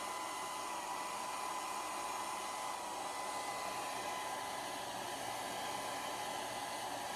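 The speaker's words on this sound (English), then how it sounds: "heat press on" A heat press switched on while pressing a Peace on Earth pillow gives off a steady broadband whir like a hair dryer, with a faint tonal hum. The sound stays even and unbroken for the whole stretch, with no talking.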